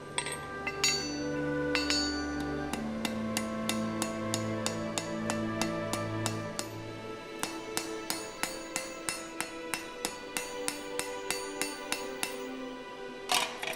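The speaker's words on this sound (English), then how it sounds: "As the rivet is much too long at the moment, I need to cut it off." A too-long steel rivet on blacksmith tongs being cut off cold rings out as a series of sharp metallic strikes, first over sustained ringing tones, then as a quicker run of crisp hits with brief pauses.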